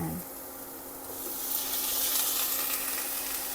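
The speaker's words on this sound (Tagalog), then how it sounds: "Lalagay ko naman yung kamatis at sili." Tomatoes and chili hit a hot frying pan with garlic, setting off a steady, bright sizzle that swells and holds throughout, with a brief clatter at the start.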